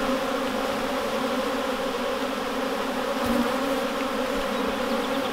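Honey bees swarm around an opened beehive, making a dense continuous buzzing hum at even, moderate loudness with no voices.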